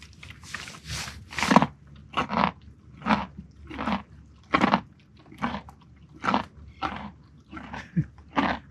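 A horse crunching carrots, a run of about a dozen distinct crisp bites and chews in an uneven rhythm, close and clear with no talking.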